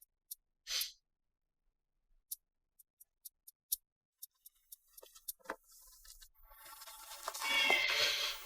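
Wild street cats meowing, several short separate cries at first, then a longer rising yowl, fairly close and loud, with rustling and scuffling noise building near the end.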